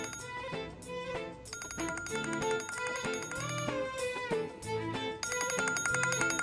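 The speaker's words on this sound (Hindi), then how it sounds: "फोन बज रहा है।" A melodic electronic ringtone plays in a repeating pattern of bright chiming notes, moderately loud and steady, with no voices.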